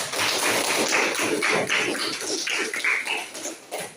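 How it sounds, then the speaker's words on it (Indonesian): Classroom students applaud the best-performing group with dense, lively clapping from many hands that holds for several seconds before thinning out, with no talking. "Aplaus dulu."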